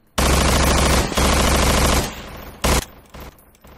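Sustained automatic gunfire from the video game Estranged bursts loud and close for about two seconds, then a brief pause, a second short burst, and fading scattered shots, with no talking.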